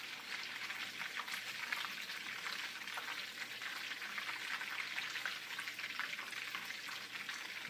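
Garlic parmesan chicken meatballs fry in a pan with a steady, dense sizzle that holds at an even level throughout, close and uninterrupted, with no talking.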